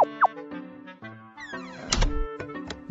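A door shuts with a single solid thunk in the middle of an animated children's alphabet lesson, set among musical cartoon sounds and chimes.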